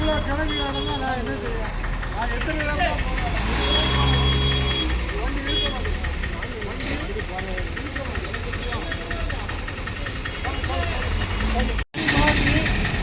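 Vehicles sit idling in a traffic jam, a steady low engine rumble filling the whole stretch with a faint high beep, while people talk and shout over it.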